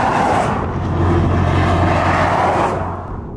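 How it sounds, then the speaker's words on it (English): A steady, powerful electric motor whine with a low synthetic hum, electronically enhanced, from a 2021 Porsche Taycan Turbo S swells and holds, then fades as the car passes. "I'm hearing kind of the electronic mechanical elements of the car"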